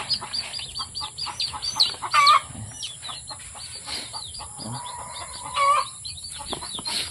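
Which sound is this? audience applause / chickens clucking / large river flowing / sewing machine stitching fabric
chickens clucking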